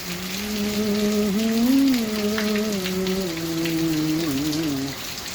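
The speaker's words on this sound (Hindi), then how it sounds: "ये सुनहरी बारिश तो मैंने पहली बार देखी है।" Rain falls as a constant hiss beneath a sustained, wavering melodic tone, with both fading out near the end.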